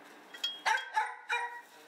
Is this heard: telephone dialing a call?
no